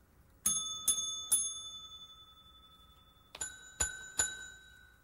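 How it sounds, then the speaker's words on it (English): Shop counter bell in a fix-it shop, struck three times in quick succession, a pause, then three more bright metallic dings, each ringing out and fading over quiet background. "It means ring this bell."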